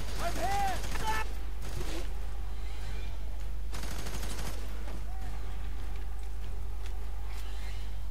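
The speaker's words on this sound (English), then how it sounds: "Is someone firing at me?" Rapid video-game gunfire from F.E.A.R. 3 co-op play, dense bursts of shots layered over game effects and music, with a player's voice speaking over parts of it.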